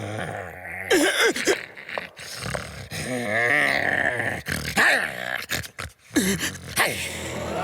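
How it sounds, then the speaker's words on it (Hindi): Animal growling from the Motu Patlu animated cartoon, a run of rough, throaty growls and grunts that swell and fade across the stretch, close and fairly loud, with faint cartoon dialogue mixed in. "अरे बंद करो ये गुर्राना।"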